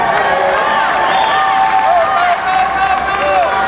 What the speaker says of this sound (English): receiving a big hand from the crowd here at the Spokane Convention Center